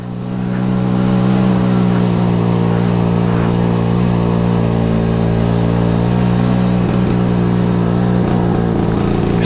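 A motorcycle on a forest trail near the village of Mergosari holds a loud, steady engine drone close by, with slight shifts in pitch near the end as gears change.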